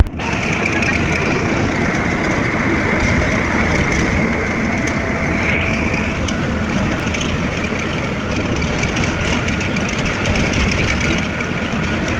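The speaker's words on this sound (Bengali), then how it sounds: "ফাইনালি আমরা চলে আসছি ফরিদপুর জেলার শ্রীনগর রেল স্টেশন" A train at Sreenagar railway station in Faridpur district rumbles steadily and loudly throughout, with a continuous engine drone and faint clatter of the carriages, no talk heard.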